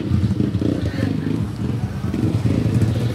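A motorcycle engine runs close by at a Pansol hot spring resort, giving a steady low rumble with slight revving throughout, mixed with people talking nearby.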